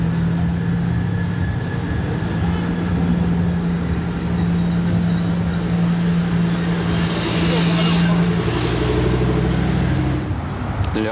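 A V12 car engine drives at night through Monaco streets, a steady low engine drone with a rising surge near the end, heard amid traffic and street noise.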